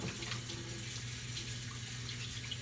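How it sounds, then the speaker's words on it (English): Water runs steadily from a kitchen faucet as hands are washed beneath it, a constant moderate splashing hiss with no talking. "let me wash my hands again."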